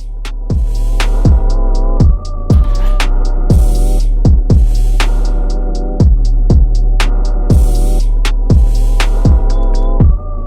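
A sewing machine zigzag-stitches along a fabric edge at a short 0.8 stitch length: a steady close motor hum with regular, evenly spaced thumps, heard alone.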